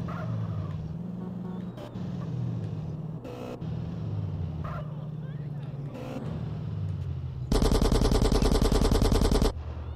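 AK rifle gunfire in the GTA San Andreas video game: a loud, sustained automatic burst near the end follows a stretch of game engine noise and scattered short sounds, with people talking over it.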